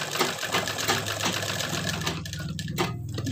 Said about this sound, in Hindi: तो हम यहीं पे सिलाई लगाते हैं इस तरह